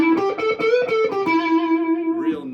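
A Heritage H535 semi-hollow electric guitar with P90 pickups played through a Tumnus overdrive pedal gives a smooth, creamy distorted tone, a quick run of picked notes settling into a sustained ringing note, loud and close.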